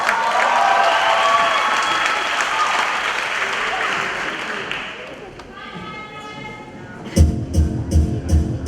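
Audience at the Empress South Africa 2018 pageant applauding the queens, with loud sustained clapping that fades over several seconds before a voice and music take over.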